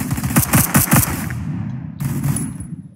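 Automatic gunfire in the Roblox first-person shooter Phantom Forces, a loud rapid burst of shots followed by a shorter second burst, with no talking.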